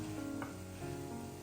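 Potatoes fry in hot oil in a pan, giving a steady close sizzle with a brief stir or scrape partway through, fairly quiet and with no voices.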